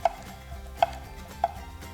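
A knife chops a cucumber into bite-sized pieces on a board, three crisp evenly spaced chops, close and clear with no voices.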